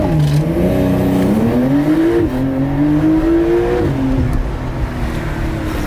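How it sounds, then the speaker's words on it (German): Porsche 911 (992) Carrera 4S in Sport Plus accelerating hard with a loud exhaust, engine note climbing through rising pitch with brief dips at gear changes, heard close from inside the car without talk. "Der Auspuff wird jetzt lauter, die Dämpfer sind jetzt härter."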